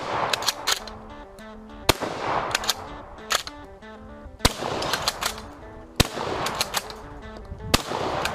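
A Hakim bolt-action shotgun firing in a video game: five sharp, loud blasts spaced one and a half to three seconds apart, with clacking bolt-cycling and reload mechanics and a background game tone between shots.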